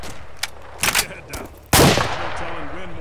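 Gunfire in a military shooter video game, sharp bursts of shots followed by a loud heavy blast, with a voice briefly heard near the end.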